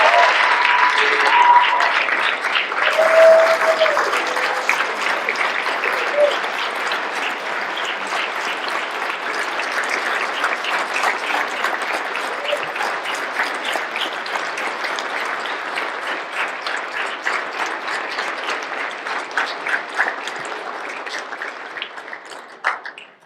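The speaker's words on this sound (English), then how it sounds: "Let's give them a warm round of applause." A sustained round of applause from a sizable audience at an annual recognition dinner, steady clapping that continues for a long stretch before tapering off at the end.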